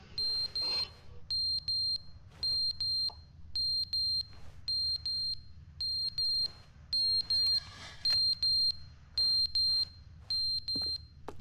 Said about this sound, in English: Isn't that a smoke alarm?